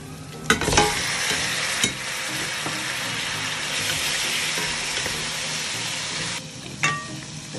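Meat and onions sizzle loudly in a pot for a Swahili Kenyan pilau, a steady frying hiss broken by a few sharp clanks and scrapes of stirring.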